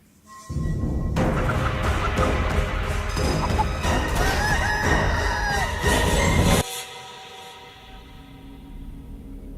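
A giant chicken in a video game lets out a loud, dense burst of clucking and squawking that lasts several seconds, layered with rumbling game noise, then cuts off and leaves a quieter background hum.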